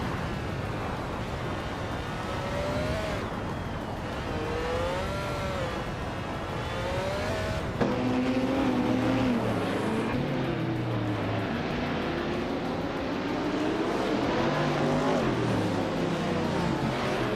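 Engines of race cars roaring around the Indianapolis track in a racing video game, including a 1970 Ferrari 712, with a continuous droning whine whose pitch rises and falls as the cars accelerate and pass.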